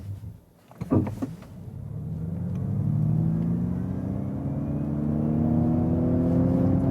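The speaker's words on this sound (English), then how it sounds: "So let's do the acceleration here in the untamed mode." A 2021 Ford Mustang Mach-E electric car pulling away hard in untamed mode: a couple of short clicks, then a rising motor whine and rolling rumble that climbs steadily in pitch and loudness.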